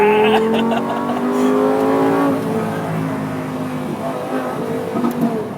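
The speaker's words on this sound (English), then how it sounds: "Lamborghini Gallardo Superleggera." A Lamborghini Gallardo Superleggera engine roars loud and close, pitch climbing through a long rev then easing and surging again, with a faint voice underneath.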